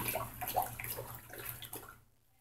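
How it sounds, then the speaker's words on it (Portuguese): Two litres of cold water pour steadily into a concentrated Downy fabric softener mix for about two seconds, a close, even splashing rush that then stops abruptly into near silence. "Vamos colocar os 2 litros de água fria"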